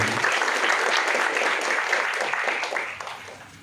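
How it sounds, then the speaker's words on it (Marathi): An audience claps loudly at an award ceremony, a dense sustained burst of applause that gradually fades toward the end. "एकदा जोरदार टाळ्या झाल्या"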